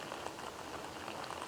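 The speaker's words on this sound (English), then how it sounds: "Now I'm going to start off by putting about 1 cup of water in there" About a cup of water poured into a bowl of freeze-dried shipwreck stew, a steady close splashing hiss that stays even throughout, with no talking.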